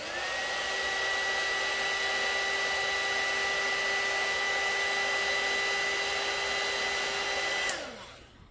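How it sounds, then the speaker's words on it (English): Small handheld heat gun blowing hot air to dry freshly applied paint, a steady loud close-up whooshing roar with a faint tonal whine, running for about eight seconds before switching off and winding down. "at this point I use just my little heat gun and do it for a couple seconds"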